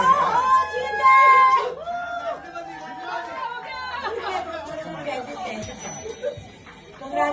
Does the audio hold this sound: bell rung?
yes